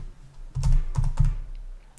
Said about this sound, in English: What I should be able to do is start typing it.